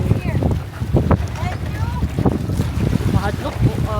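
Wind roars steadily over the microphone on an open boat trip to Caohagan Island, with people talking throughout and water and engine rumble underneath.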